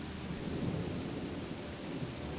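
Video game thunderstorm with heavy rain: a dense, loud wash of rainfall and deep rolling thunder rumbling continuously, with no voices.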